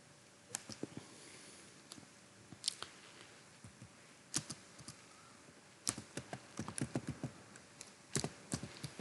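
Typing on a computer keyboard, bursts of quick close key clicks with short pauses, growing busier toward the end, over a quiet room hiss.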